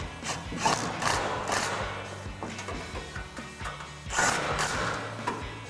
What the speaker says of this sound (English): we can come back with our 13mm socket to tighten down our 2 bolts